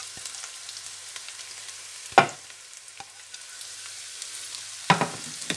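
Onion and chopped ginger fry gently in a pan, giving a soft, low sizzle with two sharp clinks or stirring knocks standing out, close and quiet, with no one talking.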